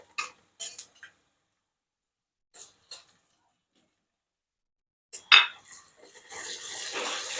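Onions and peanuts being stirred in a pan for kande pohe, sparse metallic clinks and scrapes of a spoon against the pan followed by a soft sizzle building at the end.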